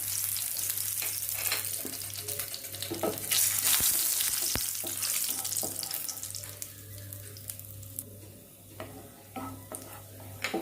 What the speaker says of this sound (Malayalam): അപ്പോൾ അതൊന്ന് ആദ്യം മൂപ്പിച്ചെടുക്കാം